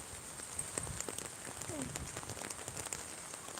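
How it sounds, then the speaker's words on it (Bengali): Steady heavy rain hisses in a windy storm, with faint patter throughout and a brief faint voice partway through. "অনেক বাতাস অনেক বৃষ্টি"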